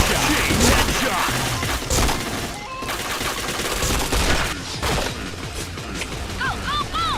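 Steady, dense gunfire in the PointBlank video game as headshots land, loud and nearly continuous with crashing impacts, plus some game voices and talk underneath.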